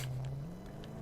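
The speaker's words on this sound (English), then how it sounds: "listen to the engine when you start up the car" Car engine in the Mad Max video game hums at a steady low drone with a faint rising tone, like a motor idling just after start-up.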